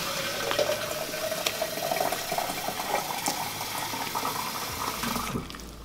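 Water pours into a cup at a pulled pork sandwich eating challenge, a steady close filling gurgle that runs for several seconds and then stops abruptly.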